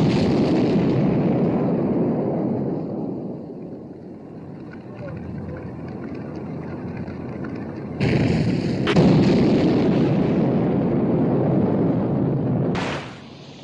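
Naval gunfire from the 1960 war film Sink the Bismarck's final battle rolls on as a dense, loud, continuous roar and rumble of cannon fire. Heavier blasts swell midway and again near the end before dropping away.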